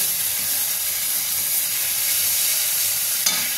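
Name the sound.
sautéing spices with salt and turmeric in mustard oil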